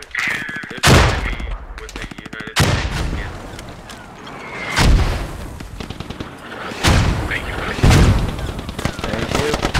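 Grenade blast and gunfire in the squad shooter Squad: sharp rifle volleys and bursts of fire, a few heavy booming impacts spread across the stretch, loud and close, mixed with speech.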